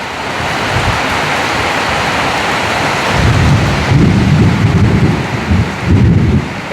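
Steady rain falls with a constant hiss, and deep rolling thunder rumbles in several swells through the second half.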